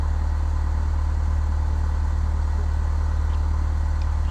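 A steady engine drone from an aircraft taxiing in Microsoft Flight Simulator X, a constant loud hum that holds its level throughout with no clear rise in pitch and no talking.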